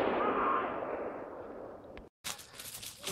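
Gunshots ring out during a hunt in the woods, with a loud report that decays slowly, a brief silence, and then a sharp burst of noise.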